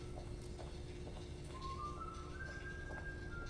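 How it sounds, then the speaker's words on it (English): In the video game Watch Dogs: Legion, someone whistles a faint, rising tune over a steady ambient hum, with a few soft taps and clicks scattered through the background. "Who's whistling?"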